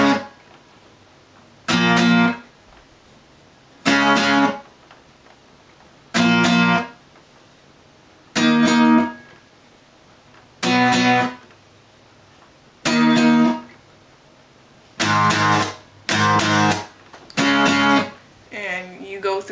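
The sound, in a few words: guitar playing intro and verse of a song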